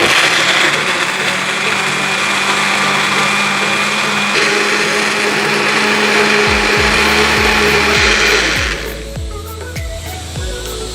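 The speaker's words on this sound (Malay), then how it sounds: "Lepas tu kita teruskan blender sampai lumat." A blender purees tomato sauce until smooth for Arabic mandy rice with chicken, a loud steady motor whir running for about eight seconds before spinning down with a falling hum.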